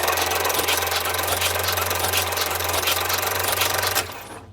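A Chrysler six-cylinder engine being turned over with valves moving gives a steady, dense mechanical chatter with a low hum, continuous and close, cutting off abruptly near the end.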